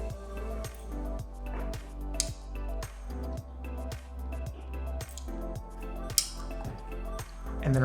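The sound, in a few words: scissors cutting a layer of hair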